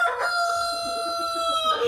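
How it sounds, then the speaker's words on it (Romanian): Clucking from Plymouth Rock chickens, partridge and silver varieties, on a Romanian farm, with a rooster crowing continuously through the two seconds, close and fairly loud. "Asta e cea mai bătrână găina mea de Plymouth potârnichiu."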